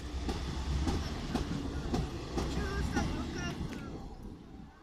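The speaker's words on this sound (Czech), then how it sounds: "Jede vlak." A train rumbles past near a high bridge, loud and steady, with rhythmic clickety-clack from the wheels and brief metallic squeals toward the end as the sound begins to fade.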